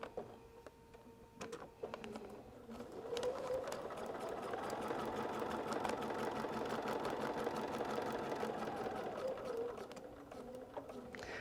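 Sewing machine stitching a foundation paper pieced quilt block, a steady mid-pitched motor whir that builds after a few seconds and runs continuously before easing off near the end, close and fairly quiet.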